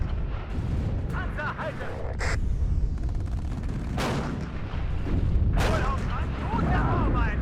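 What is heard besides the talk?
heavy firefight with gunfire and artillery in video game WARNO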